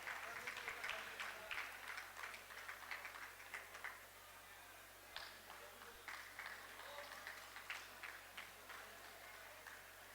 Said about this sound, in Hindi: सब लोग जोरदार तालियों से बच्चों का हौसला अफजाई करें।